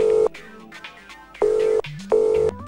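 A telephone being dialed: three loud, steady electronic tones of about a third of a second each, separated by quieter clicks and shorter beeps, with no voices.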